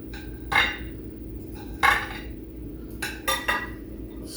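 Cutlery clinks and scrapes against a dinner plate at the start of a home-cooked pot roast meal with potatoes, giving a few short, close clinks spaced apart over a steady low background hum, with no talk.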